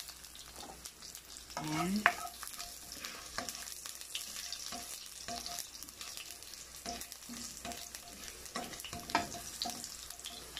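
Garlic frying in a pan for a Filipino sautéed chayote with ground meat dish, a steady close sizzle broken by scraping stirs and a few sharper crackles, with no talk.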